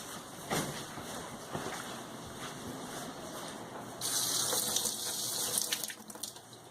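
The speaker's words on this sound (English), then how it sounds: "now that it's microwaved, we can give it a quick rinse" Tap water runs over microwaved vegetables in a kitchen sink, starting as a light patter with clinks and swelling into a louder steady gush of rinsing water midway, close by.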